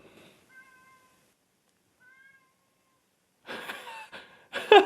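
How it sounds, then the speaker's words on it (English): A cat meowing indoors, a couple of faint thin mews followed by louder, closer cries near the end, with a quiet room otherwise. "Can you hear that cat?"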